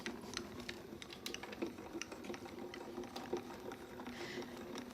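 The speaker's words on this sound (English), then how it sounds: "We'll run it through the grand caliper." A Grand Calibur die-cutting machine feeds a plate sandwich with a base plate and raspberry adapter through its rollers, giving faint, close, irregular clicks and ticks over a low hum, with no talking.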